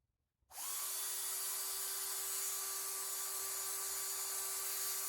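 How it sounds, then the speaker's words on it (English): A power drill with a 5/16 inch bit starts abruptly after a brief quiet and runs steadily at a constant high whine, loud and close, boring a pilot hole through epoxy. "First, I'll drill a pilot hole with this 5/16 inch drill bit."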